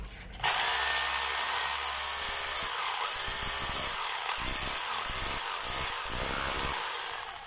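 A power tool set to chipping mode hammers without rotating, giving a loud continuous buzzing rattle with short pulsed bursts, running steadily close by.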